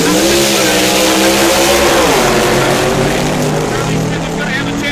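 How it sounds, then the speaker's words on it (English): Supercharged fuel-injected Chevrolet Fiat and an injected Chevy roadster in a drag race, loud continuous engine roar with a rising and shifting pitch as the cars accelerate away, steady and close throughout. "the supercharged fuel-injected Chevrolet Fiat of Davis and Ingram from San Jose, California, against Charlie Smith's plain vanilla Chevy engine injected Roadster."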